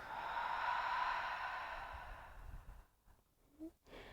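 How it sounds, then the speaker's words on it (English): A long, soft breath pushed out through the mouth during a slow relaxation routine, a broad airy whoosh that swells and then fades over about three seconds, close and gentle, ending in faint breathy traces. "And exhale through the mouth."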